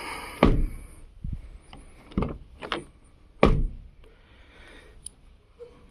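Mechanical key locking a Renault Zoe door: a series of separate close clicks and knocks from the lock and door handling, spaced irregularly, moderately loud, with no voices.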